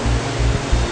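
Floodwater rushes across a completely flooded street in Brattleboro, Vermont: a steady, loud, broadband roar of moving water with low surging pulses, heard alone without talk.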